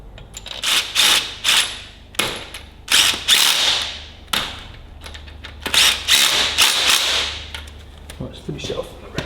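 A hand ratchet tightens bolts on a Ferguson TEA20 tractor's hydraulic unit during reassembly, giving about a dozen close, loud bursts of rapid clicking separated by short pauses.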